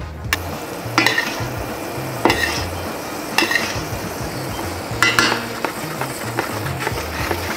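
Fish in a hot pan is deglazed with white wine, giving a steady close sizzle with stirring and several sharp clinks of a utensil against the pan, no voices.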